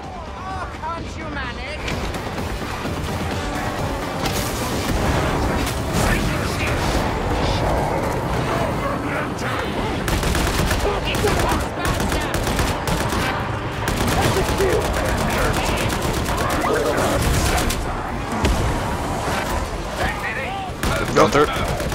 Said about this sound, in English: Suppressing fire on the enemy!